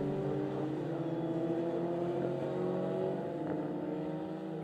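Formula Ford race cars sweep through the Craner curves at Donington Park, their engines blending into a faint, steady, distant drone that holds evenly throughout.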